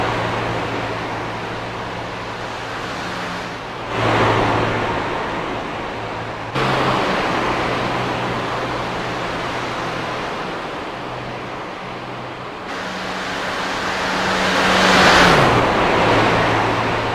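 Racing trucks of the All Pro Racing Series at Daytona, a continuous loud engine roar and road rush with engine pitches rising and falling as trucks pass.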